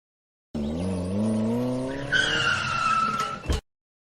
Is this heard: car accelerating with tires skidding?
yes